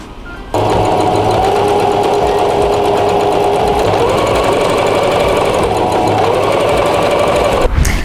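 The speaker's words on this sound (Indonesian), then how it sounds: "Lalu kita jahit kembali seperti langkah yang pertama ya." A sewing machine stitches a duffle bag, its motor starting abruptly and running as one loud, steady, close whir for about seven seconds before cutting off.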